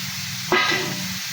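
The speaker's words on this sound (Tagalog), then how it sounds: "ilagay ko na itong ating siling haba" Long green chilies dropped into cooking chicken gizzards set off a sudden loud sizzle that flares up and then settles into a softer hiss over a low simmering background.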